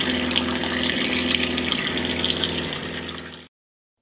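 Water rushing steadily through a UV LED water treatment system being flushed, a loud continuous gushing flow like a running tap that cuts off abruptly near the end.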